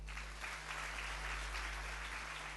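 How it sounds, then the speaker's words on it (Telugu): A church congregation claps together during a Telugu sermon, a steady unbroken wash of applause at moderate distance under a low hum, with no voices over it. "ఇప్పుడు కొట్టండి చప్పట్లు"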